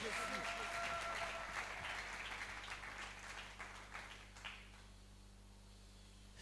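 A church congregation at a Christ-centred grace seminar applauds for the Lord Jesus, with a burst of clapping and cheering that fades over several seconds, mixed with voices.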